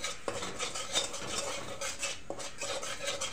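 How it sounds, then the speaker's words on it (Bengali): A utensil stirs turmeric, salt and spices in a cooking pan, making close scraping and clinking strokes with a few sharper metal knocks and no voices. "ভালো করে নাড়ি চাড়িয়ে নেব।"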